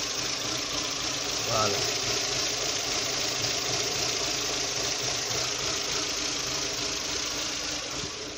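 A car engine idling roughly with a shaking, vibrating note while the vehicle stands still after starting, a steady mid-pitched running hum throughout, with someone briefly speaking over it.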